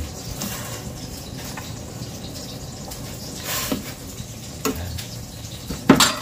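Small crabs fry and sizzle in a pan alongside fish, a steady hiss broken by occasional stirring and clinks of utensil on metal.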